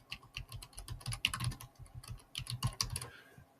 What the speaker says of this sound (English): I'm just going to type in technology innovation